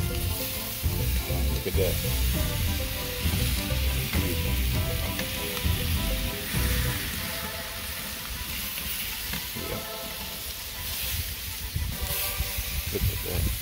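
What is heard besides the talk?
thick cut pork chops sizzling on a Weber kettle grill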